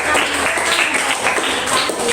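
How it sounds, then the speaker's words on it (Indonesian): Classroom applause for a student during a lesson, a steady patter of many hands clapping close by, without speech over it. "Tepuk tangan untuk Rahel."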